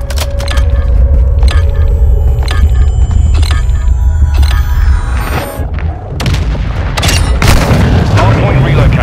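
An MGB nuclear strike exploding in a Call of Duty video game: a very loud, sustained booming rumble with cracks and crackling debris, then a second surge. Voices talk over it.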